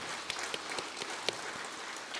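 Congregation clapping during a Sunday church service after an infant baptism, a soft, steady wash of applause from many people with a few sharper individual claps, fairly distant and quiet.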